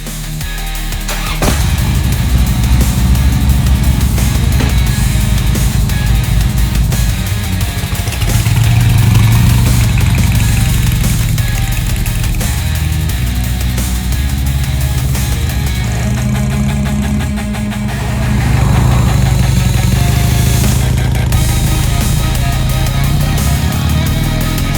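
Harley-Davidson Street Glide engine runs steadily up close, a loud deep rumbling idle that swells with a couple of revs before settling back.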